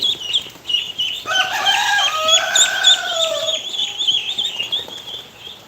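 At a farm on a rainy day, a rooster crows loudly and close in one long drawn-out call while chickens cluck and squawk around it.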